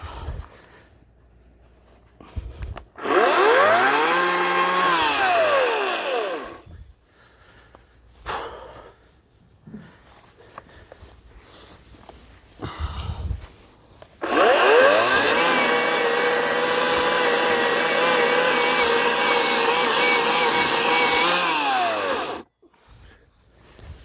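A Ryobi 18-inch electric chainsaw cuts into a birch log outdoors. The motor whines up loud and close in two sustained cutting bursts, a short one and then a longer one, with quiet pauses around them.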